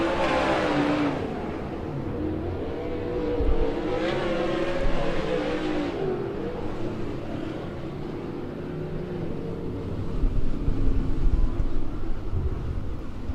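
Sprint cars in a 360 heat race at Keller Auto Speedway, a loud continuous engine roar with rising and falling revs as the cars pass, swelling again toward the end.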